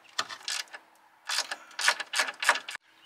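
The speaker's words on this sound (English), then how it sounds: "Grab a 13 millimeter socket." A 13 millimeter socket wrench loosens a bolt on a Ford Bronco hood, making several short, close bursts of ratcheting clicks separated by brief pauses, with no other sound around them.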